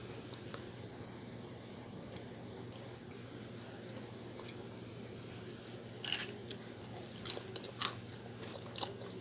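Crisp fried breadfruit chips made from steamed breadfruit are bitten and munched, a few faint crunches clustering late over a steady background hum.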